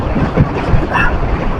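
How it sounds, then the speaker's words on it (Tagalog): Strong seaside wind buffets the microphone in a steady, loud roar with low gusty rumbling, heard alone without any talking. "Ang lakas pala ng hangin pag bumubukso."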